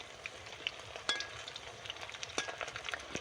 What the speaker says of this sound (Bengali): দেখতে পাচ্ছ কত সুন্দর সুন্দর লাল লাল করে ভাজা হচ্ছে